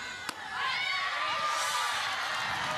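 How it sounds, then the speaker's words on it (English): California Baptist fans in the stands at an NCAA softball game against UCLA: after a sharp knock, a swelling wave of cheering and shouting voices holds steady, moderately loud from a short distance. "You're constantly hearing CBU, just catching them in the mics, just constantly cheering, a lot of chatter"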